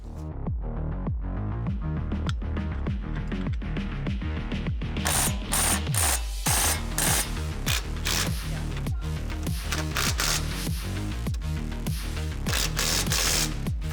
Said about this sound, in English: Once you get the nuts back on, you'll tighten them down and torque them to factory spec.